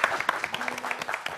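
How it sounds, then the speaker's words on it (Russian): A concert audience in Gomel applauds with rapid, dense clapping for a brief moment. The hands sound moderately close but fairly soft overall, and no voices are heard. "Эти аплодисменты вам."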